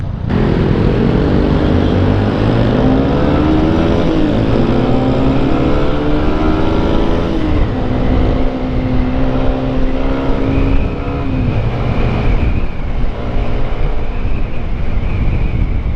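A big touring motorcycle rolls past on the road, its engine a deep, steady drone that rises and shifts pitch as it passes close by, with heavy wind rumble buffeting the microphone throughout.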